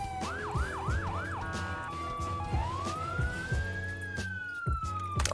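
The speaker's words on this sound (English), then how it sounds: "that is the siren that we just made" A custom police siren made in Audacity for the game Emergency 4, wailing in rapid rising-falling sweeps, shifting to a steady tone, then a long slow rise and fall, over a low rumbling backdrop.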